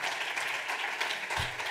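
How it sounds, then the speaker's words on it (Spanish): Audience applause at a science communication event, a steady wash of clapping that fills the whole short moment without a break. "Un aplauso para ellos,"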